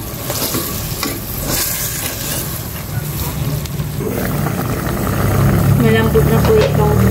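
A spoon stirs pork adobo with bay leaf and pepper in a pan, a loud continuous sizzle with scraping and clattering strokes that thickens and grows busier toward the end.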